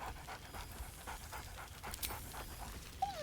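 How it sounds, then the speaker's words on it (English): Scratch, the dog companion in Baldur's Gate 3, pants in quick, rhythmic breaths at a soft level, ending with a short high whine. "Scratch barks merrily in something like agreement."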